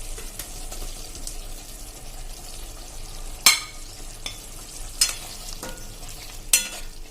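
Fried potato pieces are stirred into a curd-based gravy in a pan, a soft wet sizzle running underneath with a few sharp scraping clinks of the spoon against the pan.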